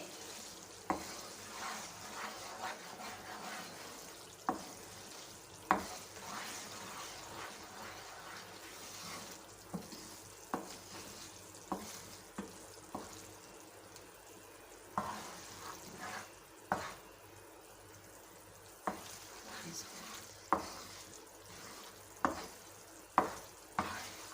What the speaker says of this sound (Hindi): तो जैसे जैसे ये पक रहा है इसकी निशानी है इसने पतले होते जाना है, ऐसे बबल भी बनने लग गए इसके।